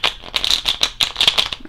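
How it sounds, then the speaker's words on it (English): Cards riffled and shuffled in quick, crisp bursts, with short pauses between each riffle, close up and fairly loud. "let me shuffle once or twice"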